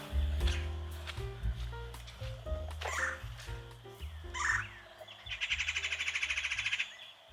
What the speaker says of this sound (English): I just saw some birds. I think it was a cardinal because it was red.